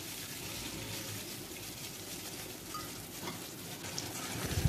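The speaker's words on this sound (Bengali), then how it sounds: "আলুটাকে আমি ভালো করে ভেজে নেব, বেশ লাল লাল করে আলুটাকে ভেজে নেব।" Potato pieces fry in hot oil in a pan, a steady close sizzle and crackle with soft stirring scrapes, continuous and alone without talk.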